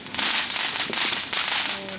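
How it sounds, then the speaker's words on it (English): Firecrackers crackle and pop in a dense, continuous burst of sharp bangs that sounds fairly close. "Oh, and the neighbors doing some firecrackers."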